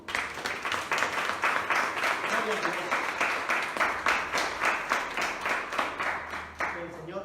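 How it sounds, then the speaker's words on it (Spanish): Church congregation in Costa Rica applauding their pastor, rhythmic clapping in a steady beat with voices mixed in, moderately loud and continuous. "Le damos un aplauso al pastor."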